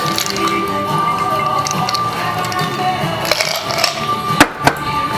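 A Manhattan cocktail poured over a large ice cube, a soft liquid trickle and splash with a few clinks and a brief bump near the end, close and moderately loud.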